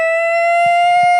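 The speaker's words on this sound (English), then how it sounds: "That's the siren, man." A loud siren holds a single steady wailing tone close by, with faint low thumps underneath.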